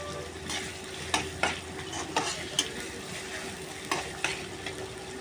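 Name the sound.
chopped onions frying and being stirred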